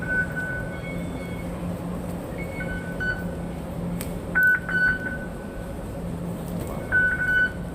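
A metro train pulls into an MTR station in Shenzhen amid a steady station rumble, with several short electronic beeps and chimes sounding at intervals.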